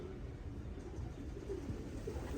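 Pigeons calling in soft, low cooing notes during a 10-mile toss road training release for racing pigeons, faint and somewhat distant against steady outdoor background noise.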